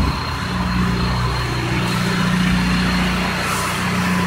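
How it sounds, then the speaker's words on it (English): A car engine idles loudly and steadily at a car wash, a low constant rumble filling the whole stretch with no talk over it. "I'm gonna go shut my car off because it's loud as fuck."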